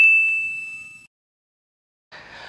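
A bright notification bell dings once with a clear ringing tone that decays over about a second, followed by silence and then a short burst of a softer shimmering chime.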